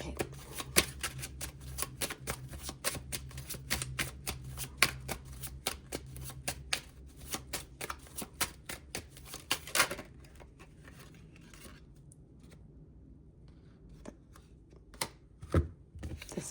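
Tarot cards are shuffled in quick riffling bursts of crisp slaps and flutters, close and steady for about ten seconds before thinning to a few sparse card taps, with faint speech in the background.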